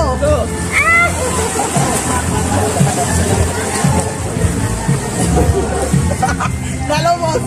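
Swimmers splash and slosh in a spring resort pool during a backstroke race, the churning water mixing with crowd chatter, shouts and laughter close by.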